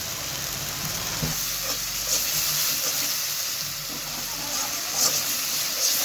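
A spice paste for tarka sizzles steadily in the pan as water is added while it is sautéed, a dense hiss with a few soft clinks of stirring.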